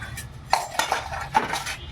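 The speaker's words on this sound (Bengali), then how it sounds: "কড়াই, খুন্তি আর সারাশিটা ধুয়ে নিল।" A metal wok, spatula and tongs clatter and clink together as they are washed, giving three or four sharp close knocks in quick succession.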